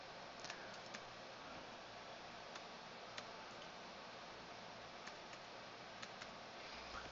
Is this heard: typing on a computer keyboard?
yes